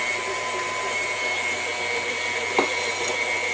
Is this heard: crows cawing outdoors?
no